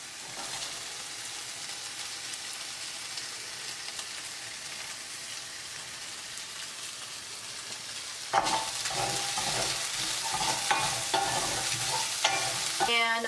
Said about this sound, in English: Okay, so I'm going to add the onion next.